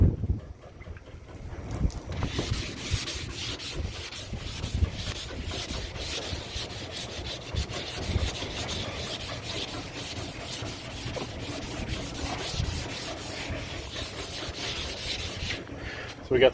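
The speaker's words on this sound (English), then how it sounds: "So we got some wet sanding going with some 320 grit sandpaper here" Wet sanding a Chevrolet Squarebody truck body by hand with 320 grit sandpaper, a steady close scrubbing rasp that runs continuously with a faint breezy hiss behind it and no talk.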